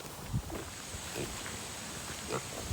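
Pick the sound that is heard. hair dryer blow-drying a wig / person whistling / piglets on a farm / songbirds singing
piglets on a farm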